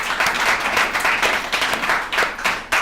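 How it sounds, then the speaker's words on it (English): A room of people at a recovery group alumni meeting claps together in a steady, dense round of applause that holds for a few seconds at even volume. "Let's give ourselves a round of applause."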